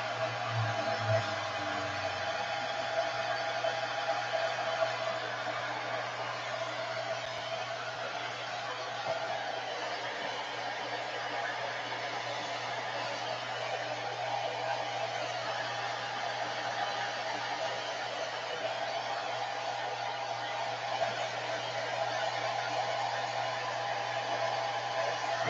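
A hair dryer blows steadily and close for the whole stretch, a constant airy roar drying ink on Yupo paper with no pauses.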